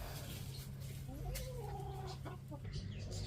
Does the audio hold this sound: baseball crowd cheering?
no